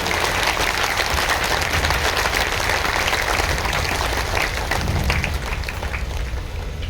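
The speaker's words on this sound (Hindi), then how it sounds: "एक बार सब एक दूसरे के उत्साह वर्धन में तालियों की गड़गड़ाहट कर रहे हैं।" Large audience at a spiritual gathering in Palamu, Jharkhand, breaking into thunderous continuous applause, dense and loud from start to finish with no pauses.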